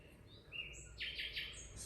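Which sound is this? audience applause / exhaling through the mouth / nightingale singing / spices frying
nightingale singing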